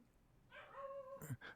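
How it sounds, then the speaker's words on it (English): A dog gives a short whining yelp that rises into a brief bark or two, faint and somewhat distant in a quiet room. "that's your dog right there"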